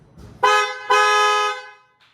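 An aftermarket horn fitted to a Tata Punch car blares twice up close, a short loud honk followed by a longer sustained one with a bright, buzzy tone, then silence.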